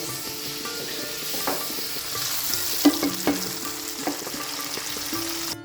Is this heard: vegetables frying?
yes